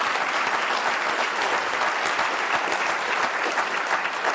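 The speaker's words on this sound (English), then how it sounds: "Now that you have clapped once, I'm going to ask you to clap again" Sustained applause from an audience at the Stegner Award ceremony, dense and steady clapping filling the room at close range throughout, with no voices over it.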